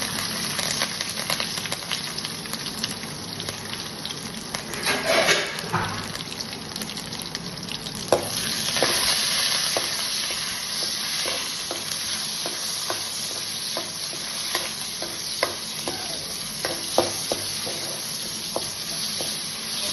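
Garlic and tomato sizzle in hot oil while a utensil stirs and scrapes the pan in irregular knocks, close and steady throughout.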